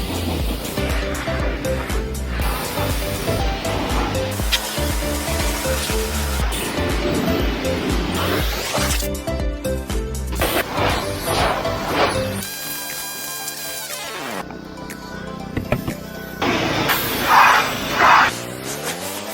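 Water sprays hard over ATVs during a wash after riding through water, a loud, continuous rushing hiss with bursts and clatter, shifting in intensity as the stream moves.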